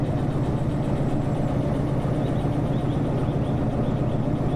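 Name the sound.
train locomotive engine working hard, from video game Derail Valley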